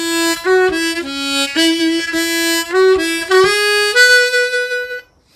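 A solo harmonica runs through an old-time phrase from Going up to Hamburg, nearly a dozen crisp blow and draw notes in a lilting rhythm that finish on a held draw 4, close and clear with no talking.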